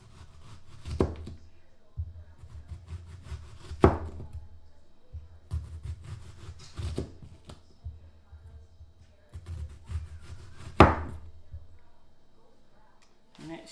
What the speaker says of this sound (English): I'm just gonna cut this onion down like this.